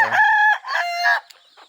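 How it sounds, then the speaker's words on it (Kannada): A native country rooster crows loudly and close by in one long, drawn-out call, followed by a few faint clucks. "ಒರಿಜಿನಲ್ ನಾಟಿ ಕೋಳಿಗಳಿಗೆ ಮಾತ್ರ"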